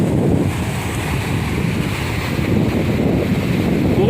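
Surf washing onto the shore at an ECR beach in Chennai, a steady broadband roar of breaking waves mixed with wind buffeting the microphone, loud and continuous with no voices.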